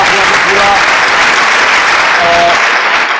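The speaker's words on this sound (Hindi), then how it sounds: "तो बहुत सारी तालियां दोबारा से इसके लिए, बच्ची के लिए" Studio audience applauding a child contestant on a Pakistani live kids' game show, steady dense clapping filling the whole moment, with faint tonal voice traces underneath.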